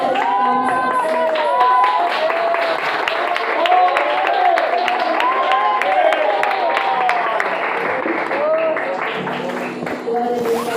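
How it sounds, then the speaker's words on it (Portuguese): A church congregation at a youth worship service claps together in dense, sustained applause, with voices calling out and singing over it throughout. "que salve de palmas ao Senhor"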